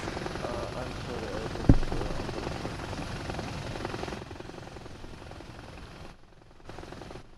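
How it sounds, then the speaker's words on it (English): Helicopter in the video game Arma Reforger, a steady rotor drone filling the background with a single sharp bang early on, fading somewhat in the second half. "helicopter and rockets"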